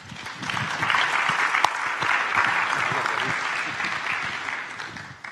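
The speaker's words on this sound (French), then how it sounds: "on l'applaudit aussi" Steady, dense audience applause at a business round-table event held by a chamber of commerce, sustained for several seconds with one sharp clap standing out, fading slightly toward the end.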